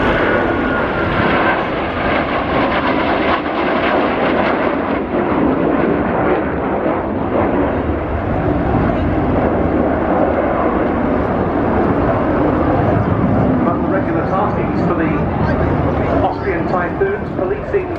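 Austrian Eurofighter Typhoon jets fly a roll display of air-to-air combat, their loud, continuous jet roar filling the sky and swelling and fading as they manoeuvre.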